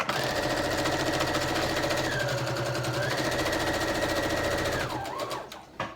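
Sewing machine running in one continuous buzzing burst as it stitches down the center of a paper booklet, close and steady for about five seconds before stopping with a couple of small clunks.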